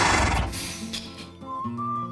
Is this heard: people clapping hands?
no